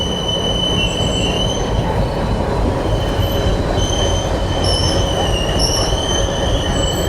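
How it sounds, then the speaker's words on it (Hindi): Devgiri Express, an ICF passenger train, stopping at a station, with loud continuous rumbling and high, sustained wheel squeals throughout. "ट्रेन यहाँ पे 5 मिनट के लिए रुकने भी वाली है।"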